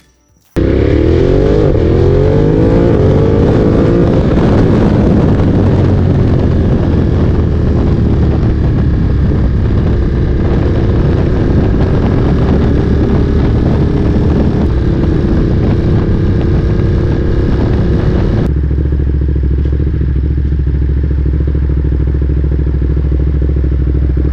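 Ducati Monster 937 motorcycle on a road test ride, its engine running loud and steady for about eighteen seconds with rising and falling revs and wind rush, then dropping to a lower, quieter drone near the end.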